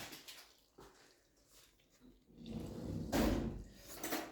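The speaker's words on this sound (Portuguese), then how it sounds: "Agora a gente vai acrescentar água aos poucos, né?" Water is added gradually to a bread dough (biga) mixture, heard as close, quiet splashing and pouring that grows louder toward the end, with a few soft knocks.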